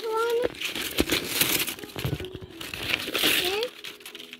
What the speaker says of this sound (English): Now we're going to open it.